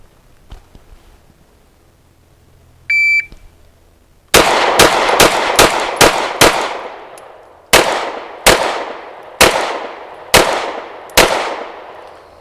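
Sharp, loud gunshots from a Canik Mete SFT pistol fired in a timed drill: a fast string of six closely spaced shots, then a pause and five more at a steadier, slightly slower pace, each with a short ringing decay, after a brief beep.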